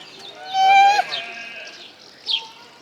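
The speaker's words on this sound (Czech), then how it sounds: "Kde je ovečka?" Sheep bleating at a zoo enclosure, a clear wavering bleat followed by a shorter second call, mixed with a child's and adult's voices talking nearby.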